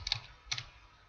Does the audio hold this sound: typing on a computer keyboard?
yes